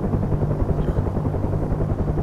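Helicopter rotor and engine drone in a flight simulator game, a steady low thumping whir with rhythmic blade beats running throughout, loud and continuous with no talking.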